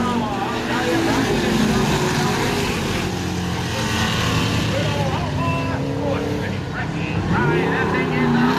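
Enduro race cars roaring around a track, a loud, steady engine drone with shifting whining tones throughout, under a commentator's voice.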